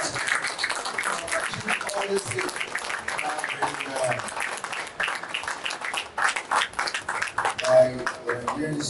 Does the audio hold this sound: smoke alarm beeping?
no